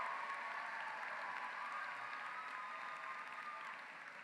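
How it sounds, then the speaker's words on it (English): Another round of applause rises from the audience at a high school graduation ceremony, a dense, continuous wash of clapping heard from a distance that holds steady and tapers slightly at the end. "let's have another round of applause for Breasia and for Jalen coming up here"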